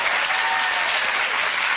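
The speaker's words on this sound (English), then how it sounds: "That it deserves a round of applause" A studio audience on a daytime talk show breaks into applause, a thick, even roar of clapping that stays loud and steady for the whole brief moment.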